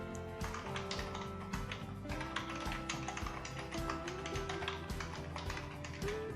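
Someone types continuously on a computer keyboard during a data entry task, a quiet, rapid stream of close key taps with a steady, slightly uneven rhythm and no talking.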